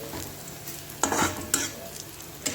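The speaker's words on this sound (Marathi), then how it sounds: "आपल्याला असाच कांदा परतलेला हवा आहे। अजून 2 मिनिटे मी परतून घेणार आहे।" Onion is stirred and sautéed in a pan for a drumstick curry, with a few soft scraping strokes and a faint sizzle, quiet and close.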